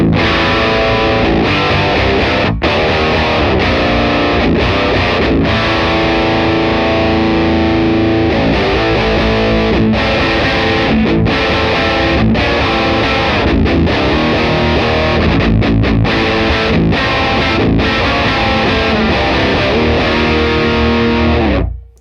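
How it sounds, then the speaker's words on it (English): A distorted ML3 Beer Baritone guitar runs through a Kraken preamp into the return of a V40 amp, playing heavy, chugging riffs. The tone is loud, dense and saturated, with brief rhythmic stops throughout and no talking. "my ML3 Beer Baritone, and we're running Kraken Preamp going into the return of the V40, and this is how it sounds"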